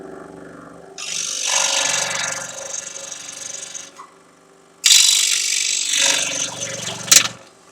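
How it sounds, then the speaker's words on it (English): Scroll saw cutting a wooden tenon in two long bursts of close, loud rasping buzz, separated by a quiet pause and ending with a sharp final snap. "The scroll saw works just fine."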